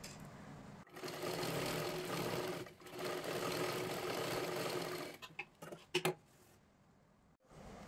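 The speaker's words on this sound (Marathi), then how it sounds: "आता इथे वरच्या बाजूला एकदम इथे बघू शकता एक शिलाई मारून घ्यायची आहे।" A sewing machine stitches a blouse sleeve seam in a steady, loud whirring run that pauses briefly, resumes, then breaks into a few short bursts and stops.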